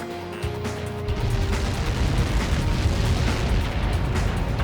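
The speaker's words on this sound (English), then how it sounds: "How many got caught in that explosion?" A Helios missile impact in the Ace Combat 7 flight game sets off a loud, deep boom that swells into a long, sustained rumbling roar filling the rest of the moment.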